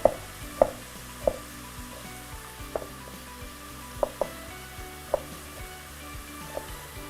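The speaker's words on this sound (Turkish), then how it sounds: "Kıymalarım kavruluyor." Minced meat fries in a pot for a Turkish potato oturtma, giving a steady low sizzle broken by sharp clinks of a utensil stirring against the pot every second or so.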